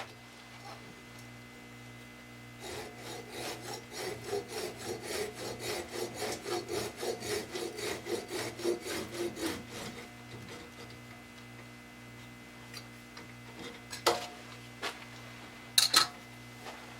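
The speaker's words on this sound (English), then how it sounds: "And then I'll just saw off the nub." A hand saw cuts the nub off an end-grain aromatic cedar bowl blank, about twenty rhythmic back-and-forth rasping strokes close by, followed by quiet and a few sharp knocks near the end.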